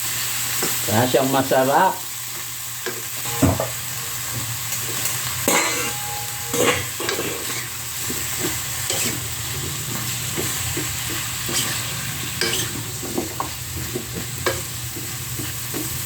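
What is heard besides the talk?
stirring vegetables in a pan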